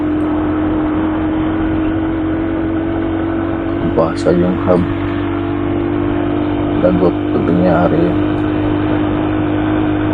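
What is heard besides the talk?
overheating vehicle engine running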